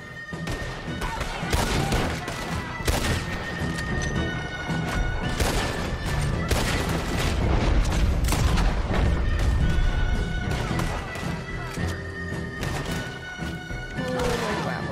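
Rapid bursts of gunfire from the Red Dead Redemption 2 video game crack repeatedly through a dense, loud firefight, shots overlapping with booms and a horse's whinny amid a busy mix.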